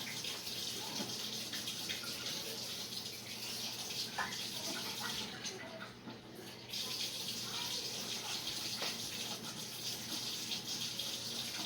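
Cold tap water runs steadily from a faucet, a continuous broadband splash that holds throughout with only a brief dip near the middle.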